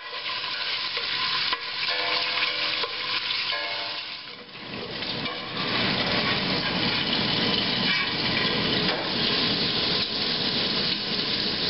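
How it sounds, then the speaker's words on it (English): Bacon frying in olive oil in a pan, a close, continuous crackling sizzle with steady spatter that keeps going throughout, with no voices. "we're going to fry up our bacon until crispy"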